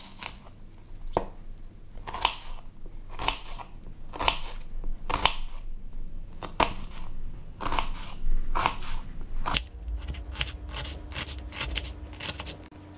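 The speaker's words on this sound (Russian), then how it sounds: "Лук нарезаем мелкими кубиками." A knife chops onion into small cubes on a board, a steady run of crisp, close crunching strokes at a quick, even rhythm, with no talking.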